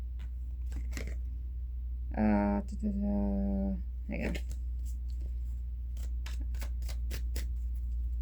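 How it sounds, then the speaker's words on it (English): Tarot cards handled and shuffled at a table make scattered dry snaps and riffling clicks. A voice speaks briefly in the middle, with a quiet steady hum underneath. "Alright, so we'll keep shuffling."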